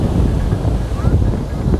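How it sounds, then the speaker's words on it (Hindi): Cold evening wind blowing across Baga beach in Goa after sunset, a steady low rumbling buffet against the microphone with faint surf underneath, continuous and fairly loud throughout. "अभी शाम में काफ़ी ठंडी हवा चल रही है"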